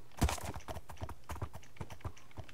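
Horses' hooves clip-clopping in the Minecraft video game, a steady run of quick, moderately loud hoof taps that repeats through the whole stretch with no talk over it.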